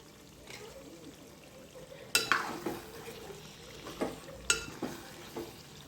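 A spoon stirs garam masala powder into a chicken and drumstick curry in a pan. A quiet simmer is broken by several sharp scraping strokes against the pan, spaced irregularly, each followed by a brief soft sizzle.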